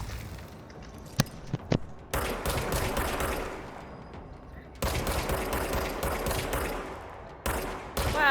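Rapid-fire bursts from an augmented bullpup AK-style rifle in the video game Control, with loud sustained automatic fire broken by brief pauses and a few single shots.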